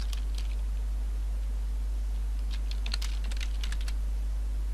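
Alt and Shift keys pressed on a computer keyboard give a few light, scattered clicks, faint over a steady low hum.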